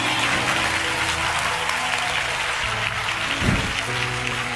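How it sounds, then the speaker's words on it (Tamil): Steady applause from a church congregation, many hands clapping together continuously, loud and dense throughout. "கைகளை தட்டி தேவனுக்கு மகிமை"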